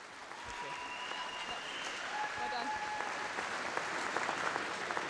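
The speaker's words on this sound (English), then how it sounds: "let's have a massive round of applause for Daniel Fogg" An arena crowd at a British swimming championship applauds swimmer Daniel Fogg, broad sustained clapping that builds slightly louder toward the end, with faint whistles and a voice murmuring beneath.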